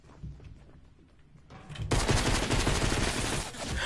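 Gunfire in the video game Fortnite: quieter scattered shots at first, then from about two seconds a loud, dense rapid burst of automatic fire that continues steadily to the end, with no talking.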